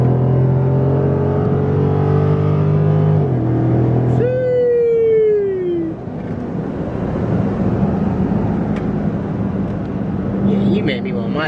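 A Dodge Charger 392 Scat Pack Widebody engine drones loudly in the cabin as the drive mode switches from sport to auto, its pitch sweeping up and then sliding down, with voices talking over it.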